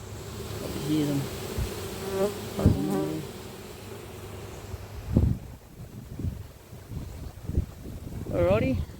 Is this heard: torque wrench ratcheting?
no